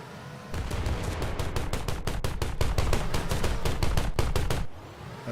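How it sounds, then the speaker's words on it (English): A turret-mounted plasma gun in Wreckfest firing a rapid burst of about twenty evenly spaced shots lasting some four seconds, loud and close, then stopping. "Oh, it's actually a plasma gun."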